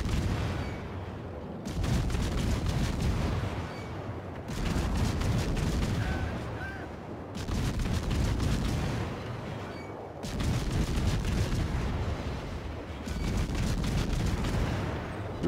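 Heavy, rumbling barrages of naval shellfire in the video game World of Warships come in repeated waves, each lasting a couple of seconds with brief lulls between, loud and dense like shells raining down.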